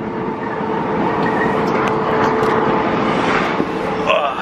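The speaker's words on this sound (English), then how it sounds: "We're on the Eurotunnel, we're on the way home." Eurotunnel shuttle train rumbling steadily through the tunnel on the way from Calais, a constant loud low roar with broadband rattle and hiss lasting throughout, with faint background murmur.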